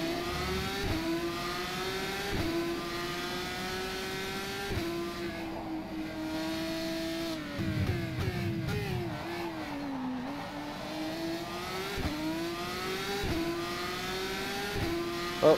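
A formula race car in the sim racing game rFactor 2 at Adelaide, its engine screaming loudly as it climbs through the revs, with repeated abrupt pitch drops at gear changes and brief lifts for corners.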